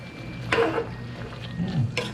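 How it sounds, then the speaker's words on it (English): Pancit bihon with sardines and garlic being stirred in a pan, two distinct scraping, sizzling strokes of a utensil close by, over a soft low background hum. "And I'm gonna mix it."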